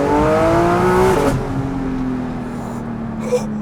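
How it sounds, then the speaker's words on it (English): A Porsche GT3 RS with a 4.5-litre engine and custom exhaust blips loudly on a downshift, rising then dropping sharply, leaving a lower steady engine drone that fades. "Literally downshifts with this custom made exhaust."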